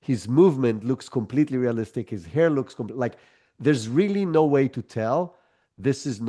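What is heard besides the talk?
No everyday noises stand out.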